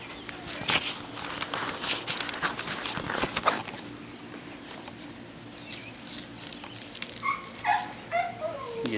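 A male puppy at a farm gives short yaps and whimpers amid pattering footsteps and light movement, with a few bird chirps near the end; a voice speaks intermittently.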